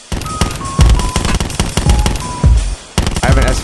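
Rapid automatic gunfire from an SMG in the first-person shooter Black Ops 4 rattles loud and close in dense bursts, with short breaks between volleys and one brief gap near the end.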